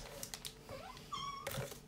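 A cat gives short meows and chirps close by between soft clicks and rustles, with a brief rising call near the end.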